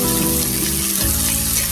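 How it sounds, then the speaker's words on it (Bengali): Bitter gourd slices frying in a pan as they are stirred, a steady dense sizzle and crackle with faint scraping, close and continuous throughout. "আমি এভাবে একটু নেড়ে চেড়ে দিচ্ছি।"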